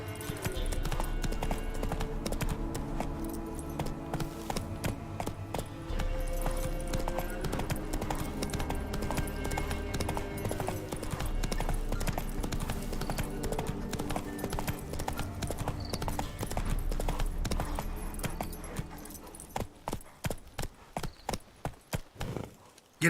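A horse gallops in The Witcher 3 video game with steady, continuous hoofbeats under a busy game soundscape, slowing near the end into separate clip-clop steps.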